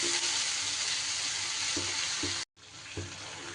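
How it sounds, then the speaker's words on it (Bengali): Spice paste for bhindi masala frying and being stirred in a pan, a loud continuous sizzle with occasional soft scraping knocks, briefly cut off before resuming. "মশলাটা দিয়ে এইবার সুন্দর করে কষিয়ে নিতে হবে।"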